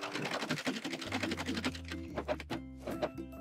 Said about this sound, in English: So I'm serging this together